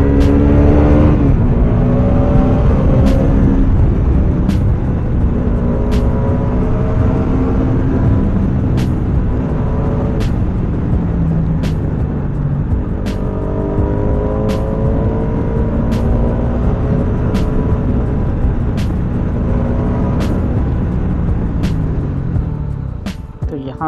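Bajaj Pulsar RS200 motorcycle engine on a night ride, droning loudly and continuously with repeated rising and falling revs through gear changes, close and steady for the whole stretch with no talk.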